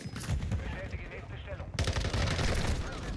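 Dense rapid gunfire fills a match on the Call of Duty map Shipment, shots crowding together with a sharp burst halfway through and steady loud firing after, with speech-like chatter mixed underneath.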